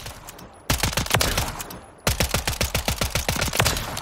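An IMI UZI .45 in Call of Duty Modern Warfare III fires two bursts of slow, evenly spaced automatic shots, each shot distinct and loud, with a short pause between the bursts.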